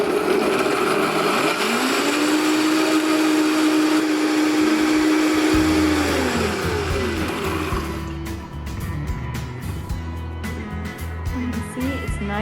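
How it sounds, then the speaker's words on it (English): A blender whirs through a caramelized onion cream sauce mixture with broth, a steady loud motor drone that shifts pitch midway and gives way to rattling, choppy pulses near the end. "Then we're gonna take this mixture now and blend it"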